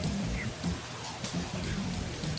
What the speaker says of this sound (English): it's very hard as the rain continues to fall